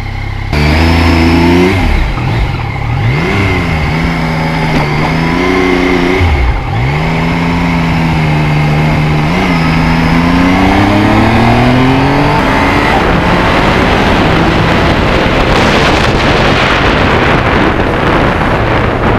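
A 2020 Yamaha MT-09 motorcycle with a quick shifter pulls hard on a country road, its engine note climbing in repeated rising sweeps broken by abrupt drops at each upshift, loud and close under heavy wind rush.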